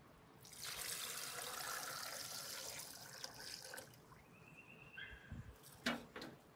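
Water is poured into a blender holding soaked tiger nuts for horchata de chufa, a soft steady splashing stream that eases off, followed by a few faint knocks and clinks, all quiet and close.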